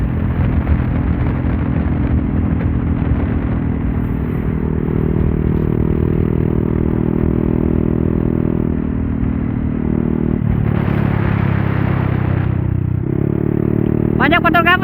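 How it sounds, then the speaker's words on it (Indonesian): A motorcycle ridden on a Sunday morning group ride in Tasik gives a steady, loud engine drone mixed with wind rush throughout, its pitch shifting briefly near the end. "bawa motornya gila guys"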